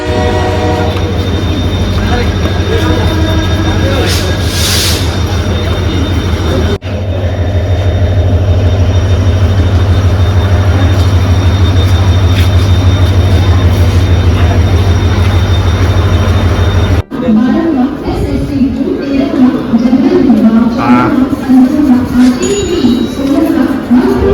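A passenger train travels overnight toward Dadar station in Mumbai, with a loud, continuous close-up rumble and clatter of the carriages that shifts in character twice along the way.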